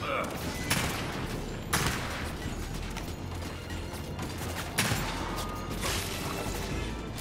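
Markza marksman rifle fire in Gears 5 comes as loud, sharp single shots about a second apart, laid over a dense wash of battle noise and mechanical clatter, with a voice talking.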